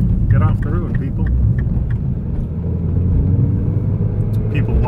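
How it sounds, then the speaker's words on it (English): A car engine rumbles steadily while driving on a road, a loud continuous low drone with road noise throughout, and someone talks over it. "Trying to drive a car here."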